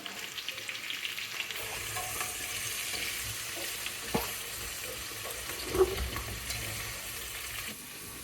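Onion frying in a pan hisses and crackles steadily up close, with a couple of soft knocks or stirring bumps partway through.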